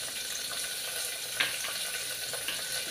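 Dried red chillies, green chillies and ginger pieces frying in oil, giving a soft, even hiss of sizzling with a faint click or two, quiet and close, no speech.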